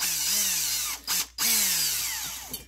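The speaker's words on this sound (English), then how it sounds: "got it in my drill, and I put it on 1" An electric drill whirs steadily at close range while porting the intake ports of a piston-ported two-stroke cylinder, its pitch sliding as it speeds up and slows, with a brief stop and restart partway through.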